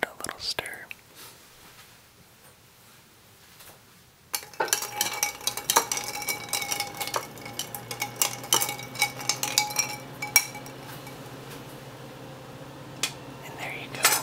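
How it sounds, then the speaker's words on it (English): A White Russian cocktail being stirred: after a quiet whispered stretch, a steady run of light clinking and tinkling from a spoon against glass and ice, close and intimate, with soft whispering around it. "Just give it a little stir."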